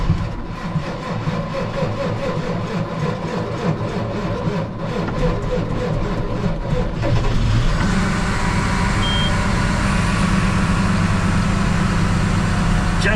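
A farm tractor that has stood unused for a month cranks with a rapid rhythmic chugging, then catches around the middle and settles into a loud, steady diesel idle with a constant low rumble.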